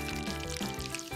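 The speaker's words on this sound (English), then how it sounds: "Thoroughly rinse the hair" Water pours steadily over a doll's hair during a rinse, a close, continuous splashing trickle with small gurgling changes and no voices.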